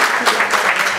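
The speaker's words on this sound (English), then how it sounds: "a special round of applause for Oxfam for their support" An audience at a policy seminar on secondary cities gives a round of applause, dense and fairly loud, many hands clapping at once for the whole brief moment.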